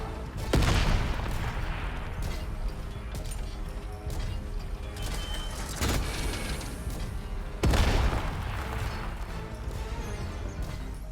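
An enemy opens fire in Atomfall with three heavy booming blasts spaced a few seconds apart. Between the blasts, steady mechanical rumble and clatter continue, all loud and close, with no talking.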